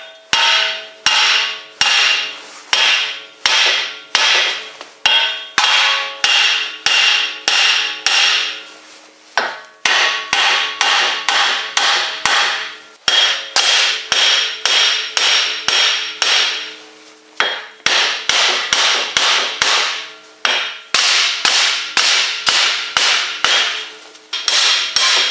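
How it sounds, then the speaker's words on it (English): Heavy hammer blows landing on alternating sides of a 2008-2012 Chevy Malibu front wheel hub to drive it loose, sharp metallic clangs in rapid bursts with brief pauses, loud and close, no talking. "we're actually going to use a pretty hardy hammer, and we're going to hit on opposite sides trying to drive it out"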